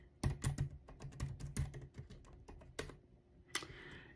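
Rapid keystrokes on an Apple silicon Mac keyboard (M1 or M2) as a terminal command is typed: a close, crisp run of clicks in uneven bursts, then a brief pause and a final flurry.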